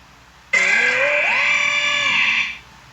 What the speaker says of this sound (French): Ce que vous venez d'entendre, c'est le son d'Orobone.